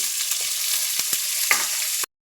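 Pointed gourd (potol) fries in a generous amount of oil, a steady loud sizzle with a few sharp crackles and clicks, then stops abruptly; no voices.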